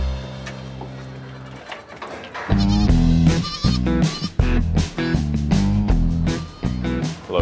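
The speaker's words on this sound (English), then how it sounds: "surrounded by hungry goats with very sharp upper teeth" Several goats bleat loudly and close by, repeated wavering cries overlapping one another, with some clattering movement in between.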